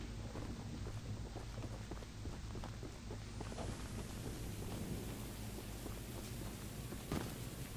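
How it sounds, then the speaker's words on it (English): Steady rain falls in the video game Choo Choo Charles, a dense hiss of drops with low rumbles of thunder rolling underneath, soft and continuous with no voices. "I like how this game is currently raining"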